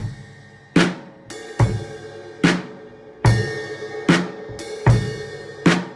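A drum kit plays a basic 12-bar blues beat: loud, close hits struck one at a time at a slow, uneven pace, each with a bright crash that rings and decays before the next. No one speaks.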